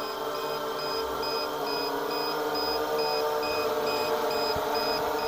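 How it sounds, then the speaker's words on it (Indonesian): A drone's low-battery voltage alarm beeps in a steady, evenly spaced high-pitched pattern throughout, over constant motor or wind noise from the drone in flight. "Lah settingan alarm kan di 3 volt dia bunyi."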